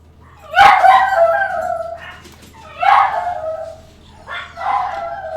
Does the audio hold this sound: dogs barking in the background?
yes